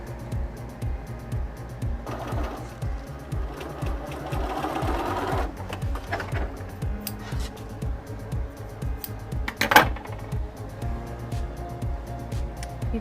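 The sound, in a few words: sewing machine stitching darts on a puppy costume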